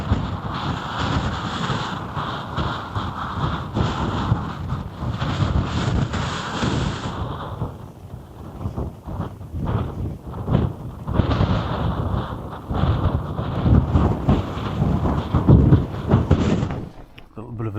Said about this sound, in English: A little bit of a snowstorm coming in.